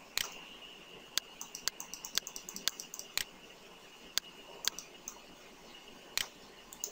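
Computer mouse clicks, sharp and close, in an irregular series of single and quick double clicks over a quiet background.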